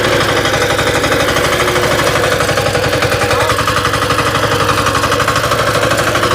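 A mini tractor engine runs loud and close while ploughing a field, a constant rapid chugging and rattling throb that holds steady throughout with no voices over it.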